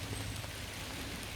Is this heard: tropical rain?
yes